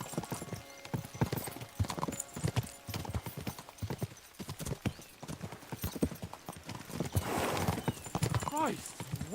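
Horses gallop in Kingdom Come Deliverance 2, a rapid drumming of hooves close by with a whinny near the end, while voices talk over the running.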